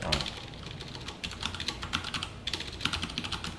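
A computer keyboard is typed on in quick bursts of light clicking while SQL queries are written in a MariaDB lesson. The taps are quiet and close, with a short pause in the middle.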